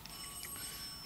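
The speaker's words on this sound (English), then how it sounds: "phone's ringing." A telephone rings faintly in a radio studio, a brief high bell-like trill over a quiet background with no talking.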